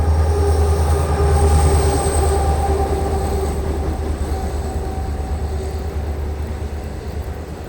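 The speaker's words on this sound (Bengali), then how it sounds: "আমার ট্রেন বেরিয়ে চলে গেল পাটনার উদ্দেশ্যে" A train pulls out of Rajbandh railway station bound for Patna, its loud, steady rumble of wheels and carriages slowly fading as it moves away, with no voices.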